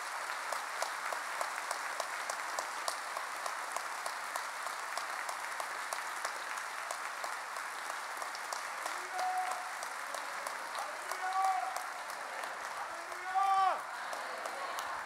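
A congregation at a Catholic gathering in Ireland claps steadily in a dense, sustained wash of applause, with a few voices calling out over it near the end.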